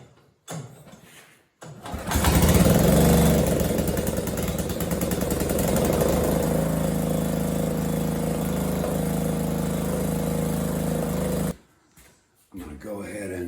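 A pull-start engine on a DIY offset brush cutter for a tractor loader catches after a short tug, then runs loud and steady for about ten seconds before cutting off.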